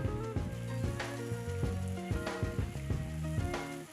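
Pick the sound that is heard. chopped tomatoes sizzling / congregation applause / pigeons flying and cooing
chopped tomatoes sizzling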